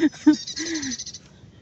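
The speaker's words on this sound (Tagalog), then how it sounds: "Ibon yun. Ah, ibon pala." A bird calls at Gardens by the Bay in Singapore: two short chirps, then a longer drawn-out call, close and clear, with quiet outdoor background.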